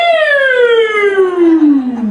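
A single loud police car siren tone glides slowly downward in pitch, steady and close, with no talking over it.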